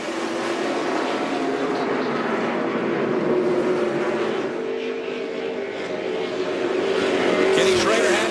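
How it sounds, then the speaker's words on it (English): NASCAR Truck Series race cars getting underway on the Eldora dirt track, a sustained loud engine drone with rising pitch and tire noise as the pack accelerates, under an announcer's commentary. "Green flag in the air, we're underway."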